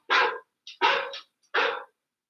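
A dog barks three times from a film scene in The Wolf Man, each bark full and close with short gaps between, clear against silence.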